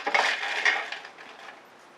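Metal utensils clink and scrape against a muffin tin as bacon goes in for mac and cheese muffin cups, a few bright clatters up front that fade away quickly.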